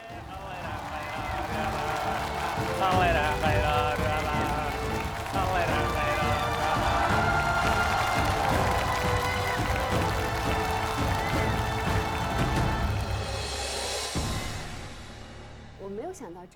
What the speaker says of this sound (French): Et applaudissements pour Daniel qui a gagné.